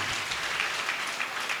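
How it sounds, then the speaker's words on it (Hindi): An audience at an All India Mushaira poetry gathering in Jalalabad claps together, a dense, even wash of applause lasting the whole moment without any voices. "तो एक बार ताली बजा के इजाजत दे दीजिए उस गजल के लिए।"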